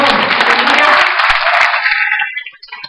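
Church congregation applauding together, a loud, dense burst of clapping that holds steady for about two seconds, then thins and fades out.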